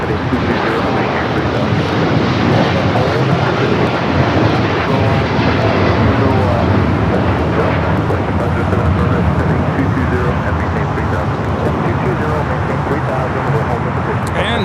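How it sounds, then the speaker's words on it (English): A United Airlines Boeing 787-9 Dreamliner takes off at LAX, heard as a loud, dense, continuous engine roar filling the whole stretch, with tower radio talk running beneath it. "this is United Airlines 198 taking off to Shanghai on the 787-9 Dreamliner."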